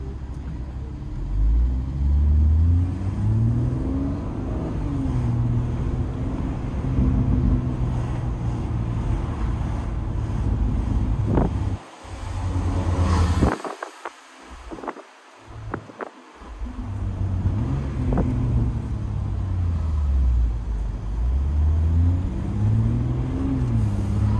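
A BMW M140i drives through Ajaccio traffic, heard from inside the cabin as a soft, steady engine and road rumble with rising and falling gear tones, briefly broken by a few sharp bumps and dropouts midway.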